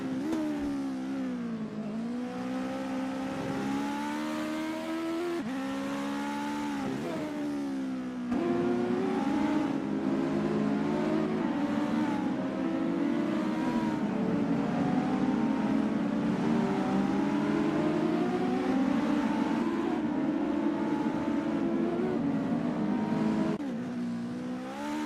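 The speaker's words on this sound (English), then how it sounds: "There's not much better than sitting near here and watching the cars speed by." US Legend race cars at the Ahvenisto circuit speed past one after another with loud whining, revving engines whose pitch rises and falls as they approach and recede, heard steadily for about twenty-five seconds with no talk.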